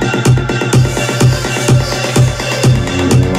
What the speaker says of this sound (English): And then together with atmospheric sounds, sounds like this.